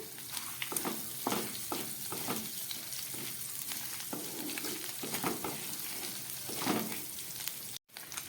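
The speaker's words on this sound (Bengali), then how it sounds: "সেই সিদ্ধ আলুটাকে এবার এই তেলের মধ্যে ভালো করে কষিয়ে নেব" Boiled potatoes fry in oil over a medium gas flame, giving a steady crackling sizzle with the occasional scrape of stirring. No one speaks.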